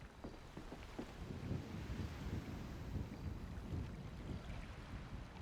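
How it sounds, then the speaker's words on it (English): Steady wind blows in the GTA V roleplay game NoPixel, a constant low rush and rumble with gusty swells that holds through the whole stretch with no talking. "It's the wind. It's the one thing that differentiates between there and here."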